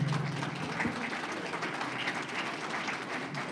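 Audience applause at a district budget town hall, a steady wash of clapping that holds at an even level for several seconds with no break.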